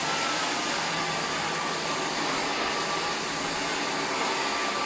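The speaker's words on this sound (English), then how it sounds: "this vacuum cleaner is cleaning tomato ketchup, honey and mayonnaise" A D100 wet and dry vacuum cleaner runs steadily up close, a loud even motor whine and suction rush as it cleans ketchup, honey and mayonnaise off a floor, with no pauses or voices.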